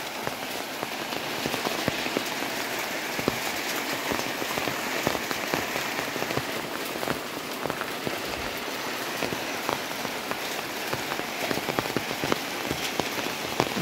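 Rain falls steadily on a village, a dense hiss of drops striking surfaces with frequent close individual splats. It stays loud and unbroken throughout, with no voices.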